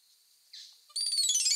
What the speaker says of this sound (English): So that is a song of a crested oripendula